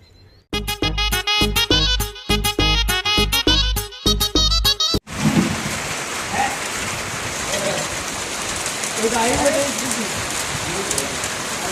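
A short burst of loud rhythmic music cuts off, then a sudden unseasonal March rain shower starts. Steady hissing raindrops patter on surfaces close by, with faint bird calls in the background.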